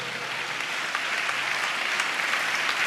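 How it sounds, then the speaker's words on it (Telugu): A church congregation claps loudly and continuously in praise, a dense, even roar of applause from many hands with no pauses. "పెద్దగా చప్పట్లు కొడుతూ స్తోత్రాలు చెప్దాం"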